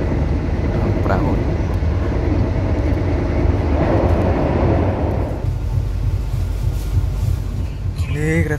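Taksaka passenger train rolling past near Randegan station, a sustained rumbling roar heard from close by that fades after a few seconds, with a person talking over it.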